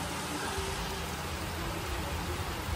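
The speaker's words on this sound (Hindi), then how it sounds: "बहुत तेज बारिश हो रही है यार।" Heavy monsoon rain pours down in a steady, hissing roar, broadband and unbroken from start to finish, fairly quiet overall with no voices.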